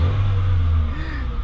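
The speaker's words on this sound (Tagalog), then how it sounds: "Hindi pino, magalaw yung makina." A 2017 Hyundai Accent 1.4 with a low-power fault sits at a rough, unsteady idle, its deep engine hum loud and close with a slight wavering throughout.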